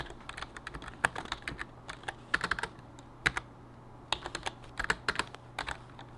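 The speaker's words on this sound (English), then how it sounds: "If I can type." Quick bursts of typing on a computer keyboard, clicky keystrokes in irregular clusters with short pauses, close and fairly crisp over a faint steady hum.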